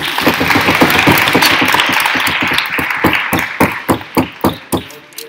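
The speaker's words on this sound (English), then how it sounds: "I beg you to applaud." An audience at a College Historical Society debate applauds loudly, a dense burst of clapping that thins into a few separate, sharp claps toward the end.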